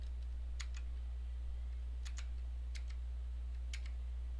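The comma key on a computer keyboard is tapped again and again, giving about five faint, crisp double clicks spaced irregularly over a steady low electrical hum, with no voices.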